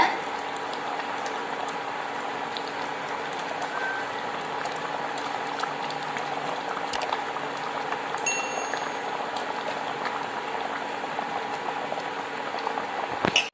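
Jalebi fish curry simmers in a pot as the gravy cooks down until the oil separates, giving a steady, even bubbling hiss with fine popping that carries on throughout, close and moderately loud.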